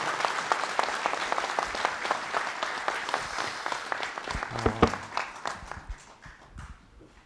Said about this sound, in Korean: 오늘 좋은 강의해 주신 윤종록 교수님께 다시 한번 큰 박수 부탁드리겠습니다